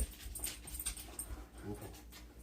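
A dog whimpers and pants softly indoors in a living room, with short breathy bursts and faint whines repeating close by at low volume.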